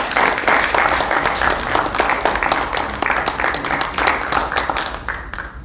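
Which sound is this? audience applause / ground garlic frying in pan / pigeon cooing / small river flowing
audience applause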